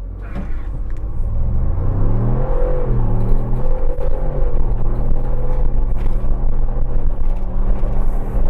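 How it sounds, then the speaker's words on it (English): A 2022 Ford Bronco Wildtrak on 35-inch tires accelerates hard, its engine a loud, steady rumble that climbs through the gears, heard close and alone throughout. "I'm going to test the acceleration with the Ford Bronco"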